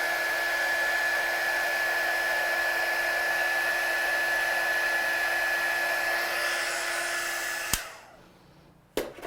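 A heat gun melting embossing powder on artwork, a steady close blowing whir with a faint tonal hum, running for several seconds before switching off with a click.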